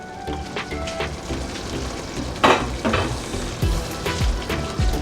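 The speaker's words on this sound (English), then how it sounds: "So our beef is cooking." Beef simmering in a covered pot for a South Indian Bellari roast sizzles and bubbles steadily, with a few louder spatters and faint clinks of a spoon against the pot and no voices.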